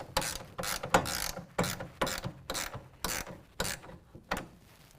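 A 1/2 inch ratcheting wrench tightens a clamp on a TruXedo Lo Pro tonneau cover fitted to a 2017 Chevy Silverado 2500. Bursts of rapid clicking repeat in short strokes, close and fairly clear, with no talk.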